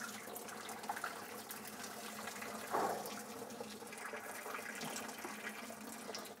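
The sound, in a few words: draining pasta water in a small pot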